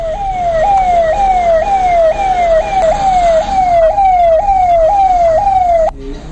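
Newly delivered ambulance at a hospital in Chamoli: a loud, close siren of rapidly repeating rising sweeps. It runs without pause and cuts off abruptly near the end.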